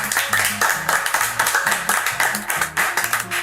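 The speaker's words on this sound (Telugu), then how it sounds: "చప్పట్లు కొట్టండి అందరూ." A crowd at a Christian church play claps in a steady, rhythmic beat, loud and close, the sound continuing without a break and no voice heard over it.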